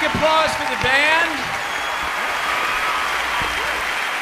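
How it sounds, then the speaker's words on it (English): An audience applauds a band at a musical stage performance, a broad wash of clapping that stays steady throughout, with a few voices calling out over it near the start. "Applause for the band."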